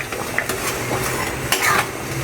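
Metal lid set over a cooking pot of pork caldereta, clattering cookware and utensil clinks over a steady sizzling simmer, with a couple of sharper metallic knocks near the middle and toward the end.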